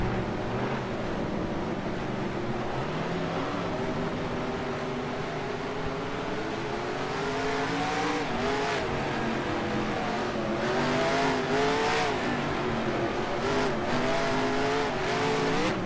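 NASCAR race cars in the racing game NR2003 roar past in a dense pack, engines whining and shifting pitch as they go by, steady and fairly loud with no talking.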